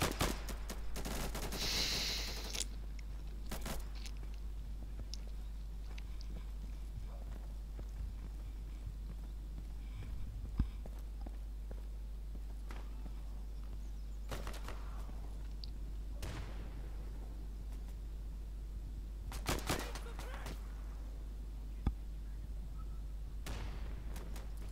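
Turret gunfire in the video game Insurgency: repeated short bursts of rapid shots, some sharper and nearer than others, spread over a constant low rumble of wind, with no talk.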